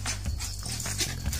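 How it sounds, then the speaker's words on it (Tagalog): A pet dog at home panting and whimpering in short, quick bursts close by, with small yelps mixed in and no talk over it. "Ang ingay ng aso ko"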